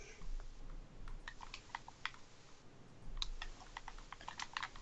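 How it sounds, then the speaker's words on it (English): Quiet, irregular bursts of computer keyboard typing come in short runs of clicks during a Minecraft game, with brief pauses between runs and no speech. "You can't see what I'm typing"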